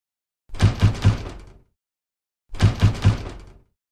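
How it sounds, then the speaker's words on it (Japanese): Knocking on a front door as a game sound effect: two separate bursts of three firm, hollow wooden raps, close and isolated against silence. "玄関のドアを叩く音がする。"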